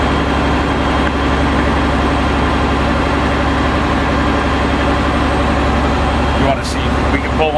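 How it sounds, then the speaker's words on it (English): A fire truck engine held at high idle with the transmission's PTO section engaged to drive a generator for hydraulic rescue tools, a loud, steady, dense mechanical drone that runs unbroken throughout. "my engine comes up to high idle, engages the PTO section of my transmission"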